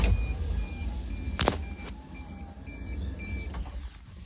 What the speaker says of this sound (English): Now when we open or close this, it's going to start beeping.